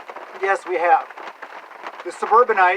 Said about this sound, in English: I apologize for the rain sound. Can't do anything about that.